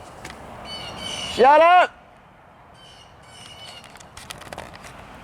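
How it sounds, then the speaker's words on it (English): Birds squawking outdoors in the open, one loud harsh call rising sharply close by and then fading into fainter chirps in the distance, with a voice briefly speaking. "Oh, sorry about the birds, guys."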